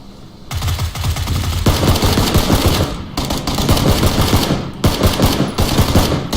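Rapid automatic gunfire in the PUBG Battlegrounds video game, loud close bursts of sustained shooting broken by short pauses, with the firing starting again after each gap.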